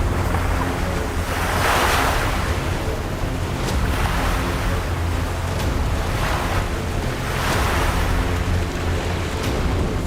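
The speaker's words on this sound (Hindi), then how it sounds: "टापू के और करीब पहुंचे तो समंदर की हलचल और तेज होती गई" Heavy sea waves churn near an island, a loud continuous roar of surf with periodic swells, wind buffeting the microphone as from an approaching boat, and no voices.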